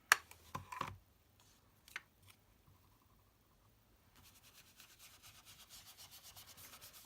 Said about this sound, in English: Can't have distressing on the front and not put it on the inside as well